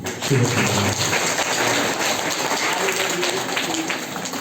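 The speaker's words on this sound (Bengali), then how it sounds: "আমরা সকলেই জেলা প্রশাসক স্যারকে একটা করতালি জানাই" Audience applause for the district commissioner at a course-completion certificate ceremony at the Shilpakala Academy in Magura, a steady, dense crowd clapping that holds evenly throughout, loud and continuous.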